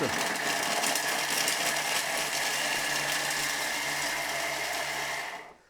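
A Thermomix food processor runs at speed 7, giving a loud, steady whirring drone that continues unbroken for several seconds before winding down at the end.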